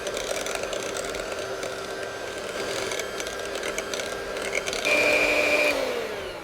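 An electric hand mixer whirs steadily while blending banana pudding ingredients, its motor pitch holding through a steady hum before rising louder and then dropping as it winds down.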